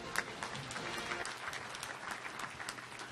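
A banquet audience at a high school football touchdown club awards dinner claps steadily, with dense overlapping handclaps and a few sharper individual claps standing out, no voices heard.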